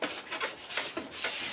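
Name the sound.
scraping ski wax with a plastic scraper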